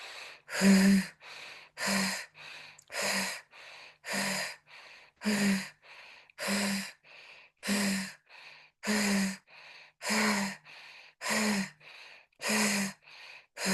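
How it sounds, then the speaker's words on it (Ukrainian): A deep breathing exercise during an energy-breathing session: strong, regular breaths repeat roughly every second, each a loud rushing inhale or exhale separated by brief quiet gaps, about a dozen in a steady rhythm with no speech. "глибинно дихаємо до кінця."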